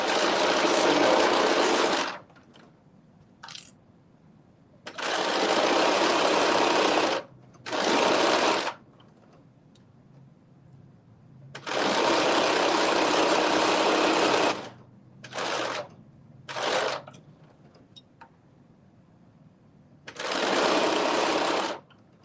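Home sewing machine stitching a seam at a 5/8 inch allowance for a McCall's 8142 garment, running in several loud, steady bursts of a few seconds each, separated by pauses of quiet.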